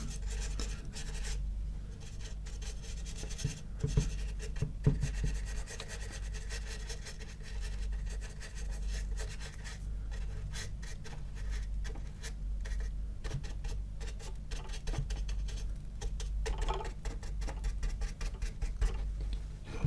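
A paintbrush dabs black paint onto a model ship up close, giving a soft continuous scratchy patter of bristles on the surface with quick irregular taps, steady and alone with no talking.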